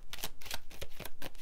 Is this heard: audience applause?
no